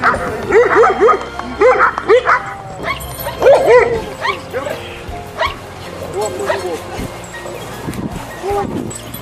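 Macedonian shepherd dogs (Karaman breed) bark and yip repeatedly at an outdoor national breed show, loud and close, with whimpers mixed in while people talk in the background.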